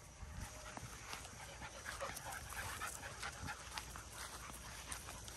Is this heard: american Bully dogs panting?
yes